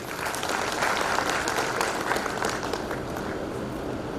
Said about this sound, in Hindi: तो अपने भाग्य के लिए तालियां बजा दीजिए।